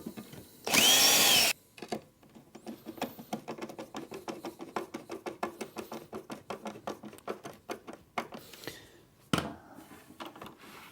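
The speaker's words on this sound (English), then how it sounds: "Drill the hole." A power drill bores a hole for a bracket in a Cooke & Lewis bridging kitchen unit, with a short loud burst of drilling followed by a long run of rapid, close clicking and ratcheting taps.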